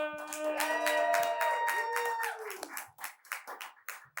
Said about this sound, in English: get the round of applause going for Nick Stargu